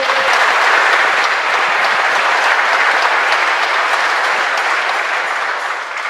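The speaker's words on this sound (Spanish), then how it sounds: "nos da pastor un fuerte aplauso, nos escucha aplauso." Loud, sustained applause from a large crowd at a church service, continuous and dense throughout, with no voices standing out.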